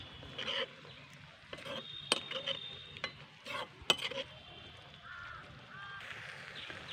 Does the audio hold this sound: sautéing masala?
yes